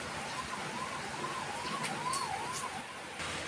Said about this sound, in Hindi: अभी भी कहीं एम्बुलेंस जा रही है